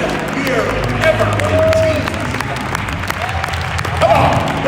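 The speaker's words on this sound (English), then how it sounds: "we ought to stand up and clap our hands together right now" Church congregation clapping hands together in praise, a steady crowd of applause and cheering with voices talking over it throughout.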